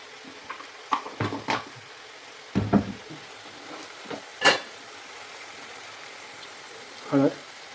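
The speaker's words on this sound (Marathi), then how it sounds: "आता आपली मिरची आणि कांदे चांगल्या पद्धतीने फ्राय झालेले आहेत." Chillies and onions fry in a pan for paneer bhurji, a soft low sizzle under scattered clinks and stirring scrapes of a utensil against the pan.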